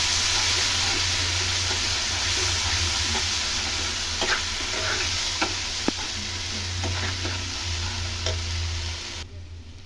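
Sugar, salt and ground cumin sautéed dry in a pan for barbati kachuri filling, a steady sizzle with frequent scraping stir strokes throughout, close and fairly loud, no talking.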